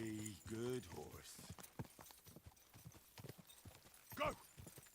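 Horse hooves clip-clopping at a steady walking pace in the video game Kingdom Come Deliverance, near and fairly quiet, with a short whinny-like sound at the start and a brief louder snort.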